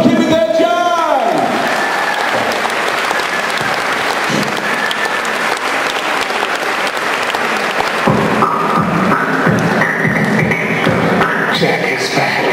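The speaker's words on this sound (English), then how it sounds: "One final time, give a round of applause." Loud, sustained applause and cheering from a studio audience after a jive dance, steady and dense throughout, with a voice calling out over the clapping near the start.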